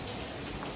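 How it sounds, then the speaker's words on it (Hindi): Heavy rain pours down in a dense, steady hiss with no breaks, loud and close, with no voices. "लेकिन बारिश जो है वो इतनी तेज़ लगी हुई है"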